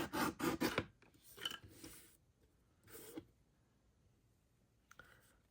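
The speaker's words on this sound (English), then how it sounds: "I'm going to use my personal trimmer. I'm just going to go right for the edge." A personal paper trimmer slicing the edge of cardstock: a quick rasping cut at the start, then a couple of softer sliding scrapes and a faint click, quiet and close.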